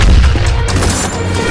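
A dense, loud burst of gunfire from an Indian action film as armed men open fire, heavy overlapping shots blending into a continuous roaring boom.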